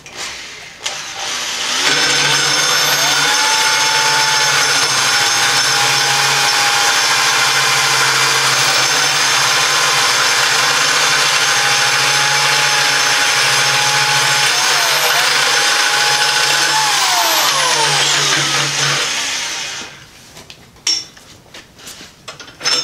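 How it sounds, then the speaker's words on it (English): A tube notcher's motor spins up and its cutting head grinds through a carbon fiber tube for around seventeen seconds, loud and close, with a steady hum, a whining tone that shifts in pitch, then a wind-down and a few clicks. "we're going to notch it through the points like this"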